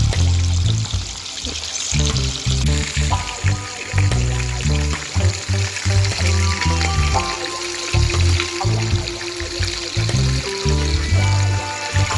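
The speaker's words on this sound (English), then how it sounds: "So you see them fry beautifully." Fish sizzles in a hot pan for curried fish coconut rundown, giving a steady, close crackling hiss that carries on without a break and without talking.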